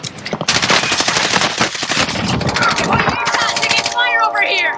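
Rapid, continuous machine gun fire in a video game, loud and close, rattling in long dense bursts that fill most of the clip before thinning into scattered shots and game effects.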